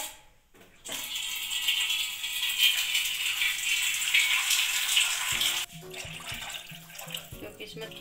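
Water poured into spiced gram flour masala cooking in a pan for a gourd kofta curry: a steady, close rushing pour of about five seconds that stops abruptly, followed by faint clatter.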